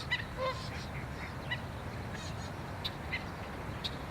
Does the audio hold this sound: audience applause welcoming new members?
no